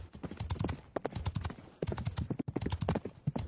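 Rapid, steady clip-clop of horse hooves at a gallop-like pace, close and fairly loud, with brief pauses between bursts.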